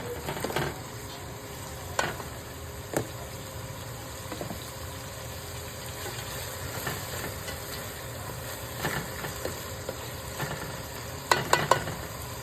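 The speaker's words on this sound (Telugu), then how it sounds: "ఉల్లిపాయలు బాగా వేగనివ్వాలండి." Onions frying in a pan, a steady close sizzle under repeated scraping stirs and a few sharp clinks of the spatula, with no talking.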